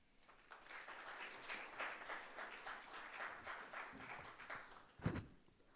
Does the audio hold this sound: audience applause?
yes